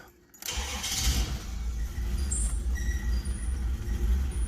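A 1994 Isuzu Rodeo that runs lean is cranked and starts, then idles roughly with a loud, close, uneven engine rumble that surges up and down in speed.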